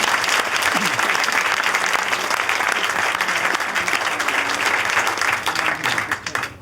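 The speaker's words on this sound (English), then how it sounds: "Give him a big round of applause." A live demo show crowd gives a big, sustained round of applause for a young volunteer, loud dense clapping with a faint voice underneath, tapering off at the end.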